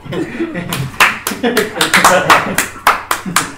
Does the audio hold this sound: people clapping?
yes